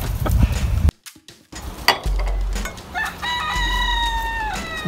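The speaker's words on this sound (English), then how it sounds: "That heckin' chickens are so freaking heckin' loud." Chickens cluck nearby, then a rooster lets out a long, loud crow near the end.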